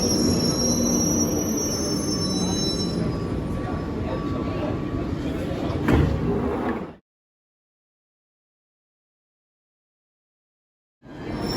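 London Underground train on the Northern Line running with loud, high wheel squeal over a rumbling carriage roar for about seven seconds, then cutting to silence before the noise returns.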